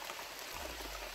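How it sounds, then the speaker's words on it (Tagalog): Heavy rain falling outdoors, a dense, steady hiss of drops with a deeper rushing swell joining partway through, filling the whole clip with no voices. "So medyo palakas ng palakas yung ulan ngayon tol."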